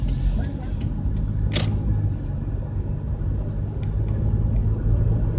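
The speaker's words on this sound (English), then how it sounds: "that bus got me distracted" A bus rumbles by on a street, a continuous low engine drone that stays prominent throughout, with a brief sharp hiss partway through.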